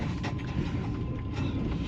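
Inside a Russian long-distance train on the Moscow to Murmansk line, a continuous low rumble fills the carriage with faint rattling, steady and enveloping.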